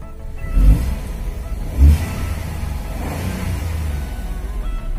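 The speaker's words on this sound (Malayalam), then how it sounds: "ശേഷം വണ്ടി സ്റ്റാർട്ടാക്കാം" Car with a stock, unmodified exhaust starting and revving, two low throaty engine surges followed by a steady quiet idle, close by.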